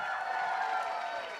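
Audience cheering and applauding at a college student cultural show, a dense steady wash of crowd noise that fades slightly toward the end.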